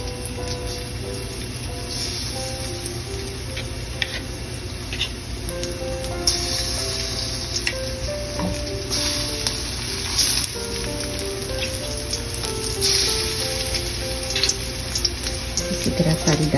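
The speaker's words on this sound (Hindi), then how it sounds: "देखें ऑयल गरम हो गया है, इसमें चिकन डाल देते हैं।" Chicken pieces frying in hot oil, a steady dense crackling sizzle that stays loud and constant throughout, with faint scattered pops and clinks.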